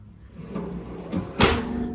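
A custom aluminum cabinet drawer inside a mobile health outreach van slides and shuts with a soft rolling glide, then a sharp metallic clunk, close and alone.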